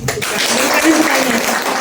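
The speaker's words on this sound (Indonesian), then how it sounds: "Tepuk tangan." Audience at a women's fellowship anniversary church gathering breaking into applause, a dense wash of many hands clapping at once, brief and loud, starting just after a voice.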